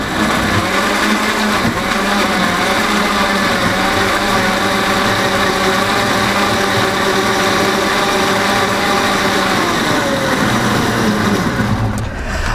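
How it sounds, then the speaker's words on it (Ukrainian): A blender whirs loudly and continuously, its motor pitch holding steady before winding down near the end. "І от такий собі набір ми хорошим блендером його збиваємо"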